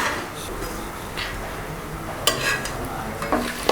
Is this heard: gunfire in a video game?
no